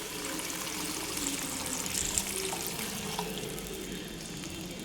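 Two tumblers of water pour and splash steadily into a pan of upma, a soft continuous hiss with faint bubbling, fairly quiet and without talk.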